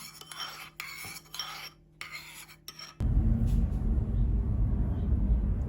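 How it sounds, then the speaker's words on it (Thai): Scraping and clinking of a utensil stirring a pot of Hong Kong kale stir-fried in oyster sauce with shiitake mushrooms, a few rhythmic strokes with short pauses, then a louder sizzling, bubbling texture takes over. "เดี๋ยวเชฟคนเข้าคนก่อนนะครับ"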